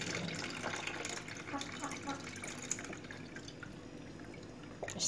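Water strained and drained off cut arvi (taro root) in a home kitchen, a quiet continuous trickle and splash with small drips, fairly faint throughout.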